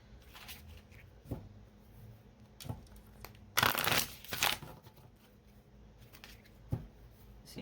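Soft riffling shuffles of a deck of cards, a few brief crisp bursts with one longer louder riffle in the middle, close by and quiet.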